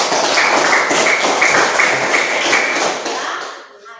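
A classroom audience applauds a group's presentation: dense, rhythmic clapping that runs loudly for a few seconds, then thins and fades out.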